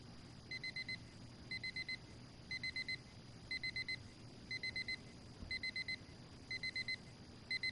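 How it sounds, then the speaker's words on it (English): Alarm clock going off in the video game Fragments of Him, sounding as evenly spaced clusters of rapid electronic beeps repeating about once a second over a soft steady background hum, with no talking. "Every day that alarm goes off."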